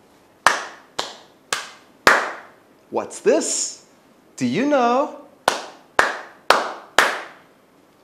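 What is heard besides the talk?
hands clapping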